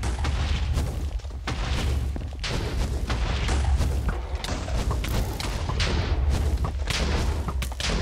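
In Minecraft, the Wither boss sets off a fight full of explosions, with a dense barrage of heavy booms and thuds rolling one after another, loud and close, with almost no pause between blasts.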